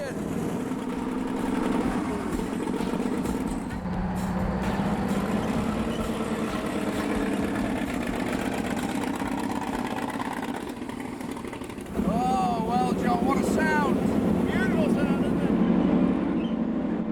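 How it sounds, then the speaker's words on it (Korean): A 27-litre V12 Liberty tank engine rumbles steadily and loudly throughout, its roar growing heavier partway through, with a voice briefly audible over the noise. "전 세계에 몇 개밖에 없는 27리터 V12 리버티 엔진입니다"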